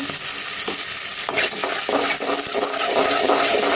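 Onions fry and sizzle in hot oil in a pan while a utensil stirs them in repeated scraping strokes, loud and close with no talking.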